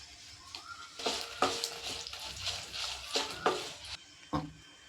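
Byadgi chillies and urad dal frying in a pan for Udupi-style sambar make a close, crackling sizzle, broken by several louder bursts where the spoon stirs and scrapes.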